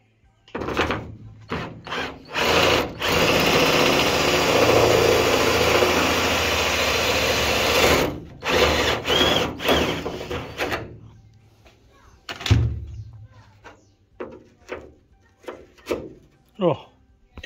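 A power drill whirs continuously for several seconds as it bores through both skins of a carbon panel on a Mk2 Ford Escort, then stops, followed by short knocks and handling sounds.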